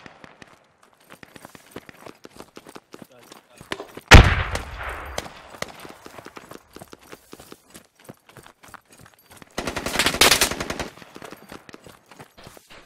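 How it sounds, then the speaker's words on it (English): Gunfire in the video game Squad on the Chora Valley map: faint scattered shots, then one loud sharp blast at about four seconds and a dense rattling burst near ten seconds, echoing over a quiet background. "The freak is shooting at us. Freaking friendly fire."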